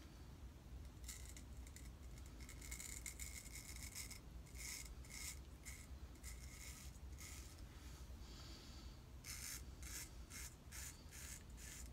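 Vintage Wade & Butcher straight razor shaving, a faint close rasping scrape in repeated short strokes, with quieter pauses between passes.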